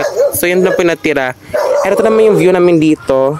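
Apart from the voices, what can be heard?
dog barking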